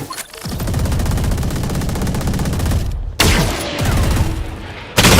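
Dense, sustained automatic gunfire in Valorant during a Grand Final esports match, loud continuous bursts with brief gaps near the third and fifth seconds and sharp shots resuming after each.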